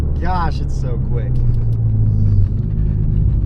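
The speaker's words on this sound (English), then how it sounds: "It makes all the fun noises, especially the clutch when it goes brrr." A big-turbo Ford Focus RS accelerates with a deep, loud engine rumble that swells and holds from inside the car, with a person speaking briefly at the start.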